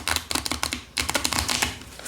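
Plastic playing cards bought cheaply at a dollar store being shuffled up close, a rapid crisp rattling flutter in two quick bursts with a short pause between them.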